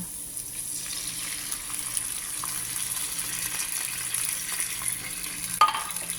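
Tuna frying in a pan for a sautéed tuna and cauliflower dish, a steady close sizzle with faint stirring scrapes and one brief clatter near the end.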